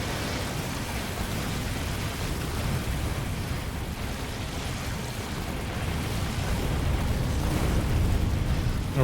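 Rockets burst over enemy nests in a video game, a dense, continuous rumble of overlapping explosions that swells slightly louder toward the end, with no pauses between blasts.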